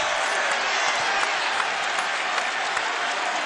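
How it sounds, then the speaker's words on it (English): A Springfield basketball crowd at a 2006 Missouri State Bears home game against Bradley jeers with a Bronx cheer, a steady, loud wash of crowd noise that fills the arena throughout. "That gets the Bronx cheer out of the Springfield faithful."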